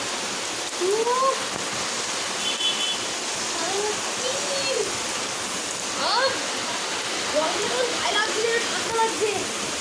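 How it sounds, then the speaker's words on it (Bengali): Rain falling in a steady, even hiss that fills the scene throughout, with a few faint chirping calls scattered over it. "বৃষ্টি হওয়া স্টার্ট হয়ে গেছে"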